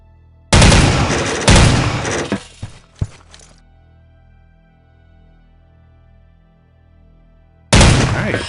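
Rifle fire from the OICW in the PC shooter Soldier of Fortune II: Double Helix: two loud sharp shots close together, a short rattling tail with a smaller crack, then quiet before one more loud shot.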